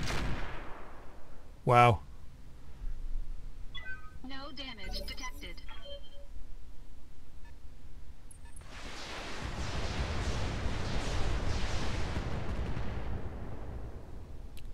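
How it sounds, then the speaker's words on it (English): A rocket launcher fires from an Urban Mech in the mech combat game Roguetech, with a sharp burst of impacts followed by a long, loud roaring rumble, and a short exclamation of speech over it. "Pretty sure it's a rocket launcher."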